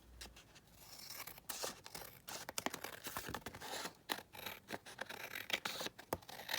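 Scissors trimming paper for a faux collage envelope, with a quiet, close series of short snipping cuts and papery scraping in an irregular rhythm, with no voices.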